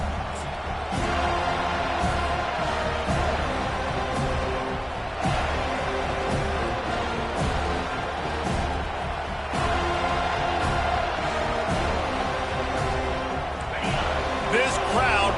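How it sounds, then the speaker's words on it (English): Loud, ear-splitting crowd roar at a Florida State football game, steady and dense throughout, with a commentator talking over it. "This crowd bringing an ear-splitting welcome to their visitors"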